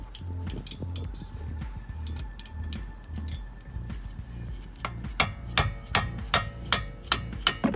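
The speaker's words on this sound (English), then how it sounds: "use the rubber mallet" Rubber mallet knocking a wrench on a brake caliper bolt of a Dodge Avenger during a rear brake pad job, a run of sharp metallic taps that quickens into a rapid series of louder blows near the end.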